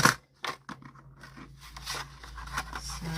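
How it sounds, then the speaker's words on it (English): Scissors snipping paper scraps off the side of a handmade junk journal page, a few close crisp cuts and scrapes that start loud then continue softly, with no talking. "I'm just going to cut these bits off the side."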